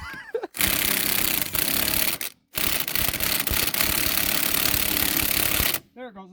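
An impact wrench rattles hard while tightening lug nuts on a Jeep wheel: two long, loud, continuous bursts split by a brief pause, close up, with a moment of quiet at each end.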